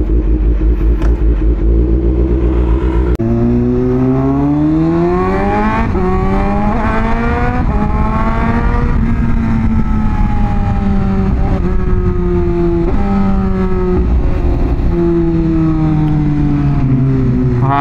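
A Honda CBR1000RR-R Fireblade SP superbike on a night ride, its engine loud and close throughout, revving up and down through rising and falling pitch sweeps with steady wind rush and a brief drop near the start.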